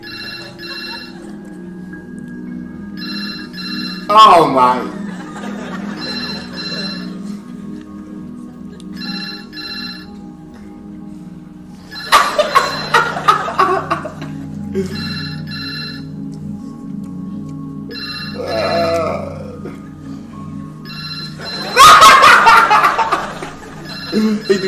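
Telephone ringing in an office scene from the TV show The IT Crowd, repeated electronic rings in bursts over a bed of background voices, laughter and another person reacting briefly.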